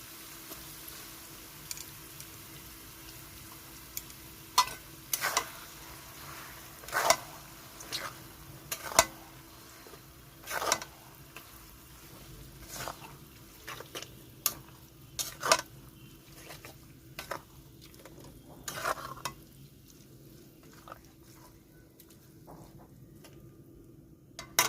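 Mango pieces for an oil pickle, being mixed into warm oil and spices with a metal spoon, give repeated scraping clinks against the pan, and a faint, low sizzle runs underneath throughout.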